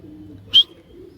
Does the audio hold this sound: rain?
no